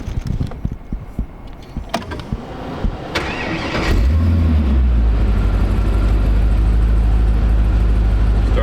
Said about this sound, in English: Starts up instantly with the electronic fuel injection.